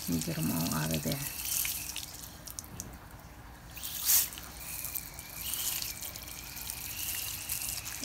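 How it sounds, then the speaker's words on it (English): Steady rushing water sprays continuously from a garden hose at moderate distance, with a brief muffled voice near the start and a short splashy burst midway. "just blast it with the water"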